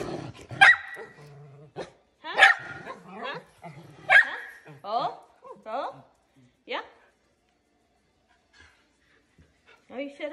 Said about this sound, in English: What are you barking about now?